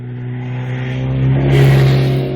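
A superbike in sixth gear pulls from 60 to 80 mph. The engine note climbs steadily and grows louder, peaks near the end, then eases slightly.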